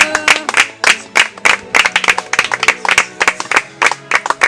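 A church congregation claps in irregular, dense bursts, close and loud, as applause that rises and dips without pause.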